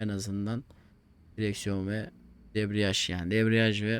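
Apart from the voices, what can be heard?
No everyday noise stands out behind the speech.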